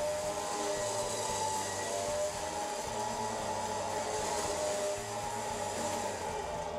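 A winch on a lifted Dodge Ram 1500 riding on 37-inch tires pulls in cable with a continuous, even electric whine and motor hum that holds steady at moderate volume for several seconds, with no talk over it.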